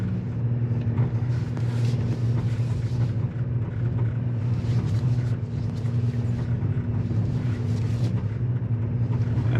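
A 2022 Chevy Traverse RS runs at full throttle, heard from inside as a steady, loud engine drone and road rumble that swells slightly in waves, with no voices.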